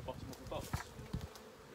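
Honeybees buzz close by during a nuc transfer into a short long hive, a faint droning hum with a few louder passes of individual bees over about two seconds.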